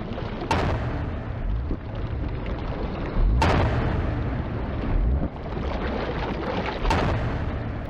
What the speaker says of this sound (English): His sonic clangs are strong enough to stun a human diver.